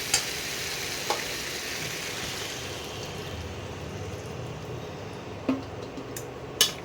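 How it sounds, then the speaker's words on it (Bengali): Cauliflower pieces with spices sizzle softly in a pan as a spoon stirs them, a steady quiet frying hiss broken by a few sharp clinks of utensil against metal. "কপিগুলো মশলার সঙ্গে ভালো করে মিশিয়ে নিতে হবে।"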